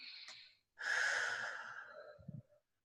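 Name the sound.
a person taking a deep breath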